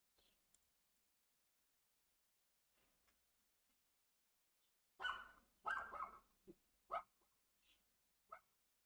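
A female dog barks in a burst of several sharp barks clustered together, then a couple of isolated barks, at moderate distance in an otherwise quiet room with faint clicks.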